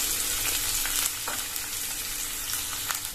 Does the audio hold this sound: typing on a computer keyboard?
no